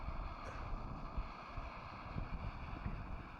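Wind gusting outdoors around an MSR Micro Rocket camping stove, heard as a faint, steady low rumble and buffeting with a soft airy hiss throughout, with no voices.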